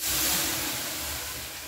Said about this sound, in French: Et voilà le coup de vapeur.